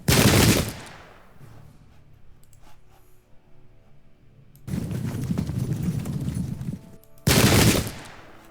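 Massed musket volleys in a Pike and Shot Campaigns battle at Custer's Last Stand, three loud broadband bursts of rapid crackling fire, the first short, the second sustained for about two seconds, the last brief, with quieter battlefield ambience between them.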